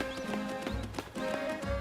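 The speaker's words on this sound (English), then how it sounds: "Oh, listen to its little footsteps." Bulbasaur's small footsteps in the video game Pokemon Legends: Z-A, a quick run of light, rhythmic clip-clop taps over a soft background of game music.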